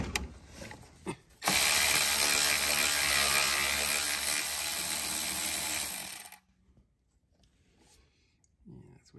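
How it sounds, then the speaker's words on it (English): A hand ratchet loosens a 10 mm bolt on a Porsche Boxster 986 while removing the throttle body, giving a loud, steady run of fast clicking for about five seconds before it stops. "Next, I'm gonna remove this bolt here."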